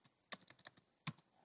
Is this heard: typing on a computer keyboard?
yes